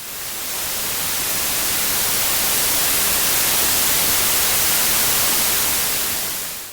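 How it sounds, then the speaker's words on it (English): A stereo pink noise test signal, a broad steady hiss that swells up slowly from near silence, holds at full level, then eases off at the very end. "So I'm going to slowly raise up the pink noise"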